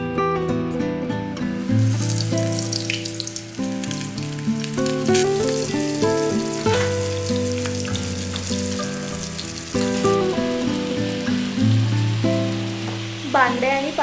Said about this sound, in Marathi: आता ताई पॉपलेट फ्राय करतात, पापलेट फ्राय करतात.